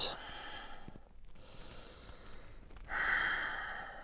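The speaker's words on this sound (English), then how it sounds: "Continue to breathe, take deep breaths, audible breaths." Deep, audible breathing in a yoga class, slow inhales and exhales through the nose with a snort-like rush and a longer loud breath near the end, close and quiet.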